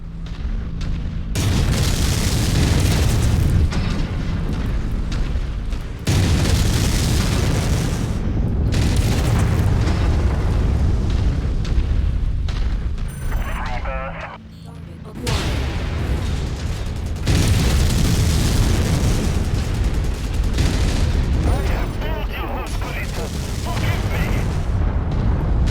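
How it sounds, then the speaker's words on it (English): Heavy explosions and booming weapon fire in the MechWarrior game as an artillery emplacement is destroyed, loud rumbling blasts in long sustained stretches with short lulls, and radio-style voices speaking in between. "Artillery emplacement destroyed."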